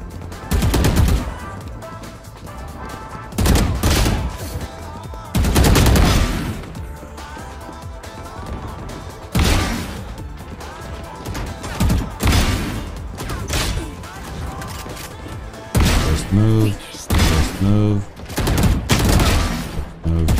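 Rapid bursts of video game gunfire in a crouch-heavy shooter match, loud and sharp, arriving in clustered volleys separated by short pauses, with several quick repeated shots near the end.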